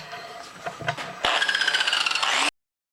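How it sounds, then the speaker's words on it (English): A power tool bites into a hole to countersink it during a workshop machine build, a loud, steady whirring grind starting sharply after a few light knocks and cutting off abruptly. "We'll do a quick countersink."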